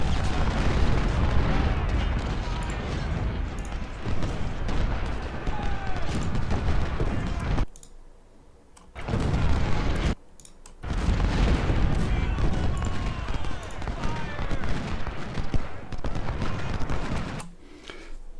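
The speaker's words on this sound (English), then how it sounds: "And we've got more cannons." Cannon artillery fire in Ultimate General: Civil War, a dense, continuous barrage of booms and rumbling gunfire, loud and close, briefly dropping out twice before resuming.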